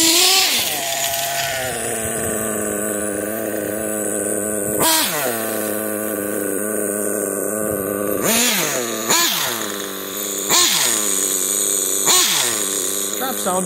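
A Kyosho Neo ST 3.0 nitro RC buggy's small engine idles with a steady buzzing drone, broken by several quick throttle blips that rise and drop in pitch, running loud and close throughout.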